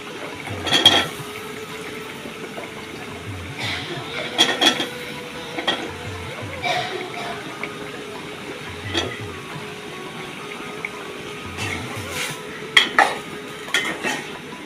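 Long beans cooking in a pan with a little water, heard as intermittent clinks and scrapes of a utensil stirring against the pan over a quiet background.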